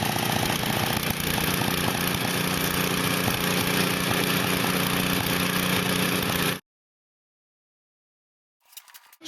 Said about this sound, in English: A 5-horsepower snowblower.